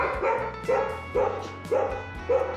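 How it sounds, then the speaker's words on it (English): A dog barks repeatedly at a steady pace, five or so sharp, close barks in a row with short pauses between them. "She's barking. She's barking."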